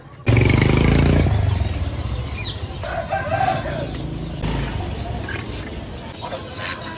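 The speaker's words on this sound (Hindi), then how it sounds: "ये मुर्गा चेक करो बालों वाला" A long-feathered rooster crows loudly and close by, a long strained call, followed by outdoor noise, clucking and faint rustling.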